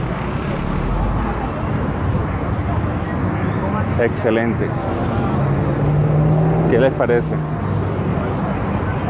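Busy night street traffic in Bogotá, with cars, motorbikes, buses and public transport rumbling past in a steady loud wash, while someone speaks over it near the phone.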